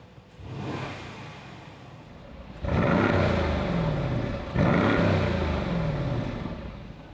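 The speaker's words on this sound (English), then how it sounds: "go through all the modes for the revs so you can see what the car sounds like" A Mercedes-AMG GLC63 S Coupé engine in comfort mode with exhaust flaps closed idles at a standstill, then revs hard twice, each rev rising sharply and falling away, heard close up with no talking.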